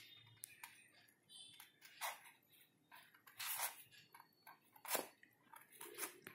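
Small scissors snip through a file sheet while cutting out a floral design, giving a few faint, separate crisp cuts with quiet pauses between them.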